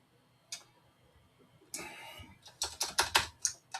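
Keys clack on a computer keyboard as Python code is typed, first a single tap, then a short burst and a quick run of close, fairly quiet keystrokes.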